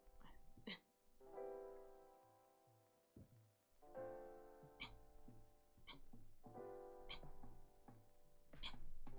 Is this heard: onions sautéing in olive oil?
no